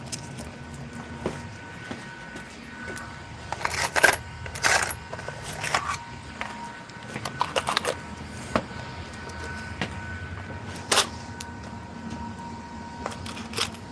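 Metal washers jingle and clink in the hand during electric bike upgrade work, scattered sharp metallic taps and brief jangles, some in quick clusters, against a low quiet background.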